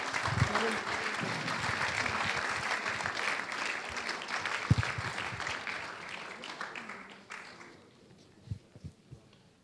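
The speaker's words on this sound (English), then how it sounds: "Thank you to our panelists. Round of applause." A conference audience applauds the panelists of a safeguarding commission event, steady moderate clapping that fades out after several seconds, leaving a few scattered claps and quiet room sounds.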